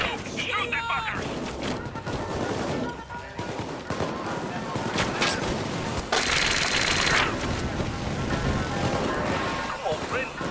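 Rapid automatic gunfire in a chaotic shooter game, dense bursts of shots and crashing impacts running nearly nonstop and loud, with people talking excitedly over the fight.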